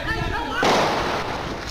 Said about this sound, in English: gunfire can be heard in the background